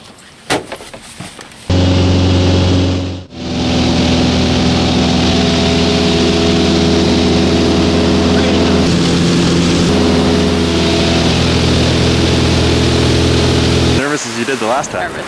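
Small plane engine starting and settling into a loud, steady droning hum with strong tonal harmonics, after a brief burst of handling noise; the engine runs alone for most of the stretch before fading into rustling at the end.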